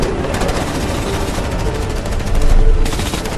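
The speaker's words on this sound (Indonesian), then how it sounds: "si ketua dan anak buah pun langsung menembaki cahaya tersebut" Dense, continuous automatic gunfire from a squad shooting at a mysterious light in a supernatural special-forces film, loud and sustained with rapid overlapping bursts.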